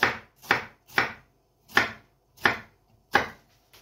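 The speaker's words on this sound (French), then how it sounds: "on va ciseler l'oignon rouge" A knife finely chops red onion on a board, six crisp, evenly spaced chops with brief pauses between them, close and clear without talk.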